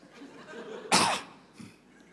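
A single sharp cough bursts out near and loud, standing alone against a low murmur of indoor room noise, with a faint second throat sound shortly after.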